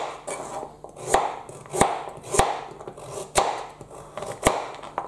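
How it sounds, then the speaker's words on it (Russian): A knife slices carrots into rings on a cutting board, with about seven crisp, evenly spaced chops and softer scraping between them, close and clear with no talking. "Следующий таким же способом нарезаем морковь."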